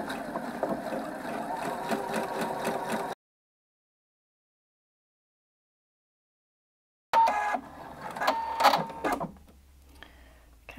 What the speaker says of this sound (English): So I'm just going to go ahead and sew that tacking stitch now.